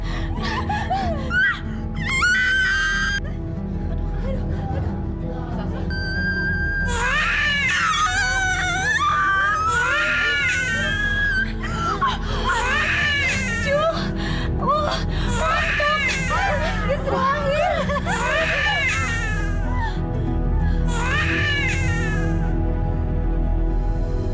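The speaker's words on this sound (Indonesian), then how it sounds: "Saya seperti mendengar suara tangisan." A newborn baby cries in repeated wavering wails for over twenty seconds, loud and near, over a steady low background hum.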